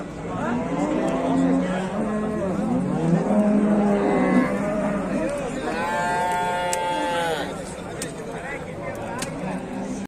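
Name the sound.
Jersey cow mooing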